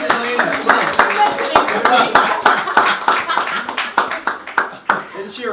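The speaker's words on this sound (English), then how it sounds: "Let's give everybody a round of applause" Audience applause for a speaker at an event, a steady wash of many clapping hands with sharp individual claps, lasting throughout under a faint murmur of voices.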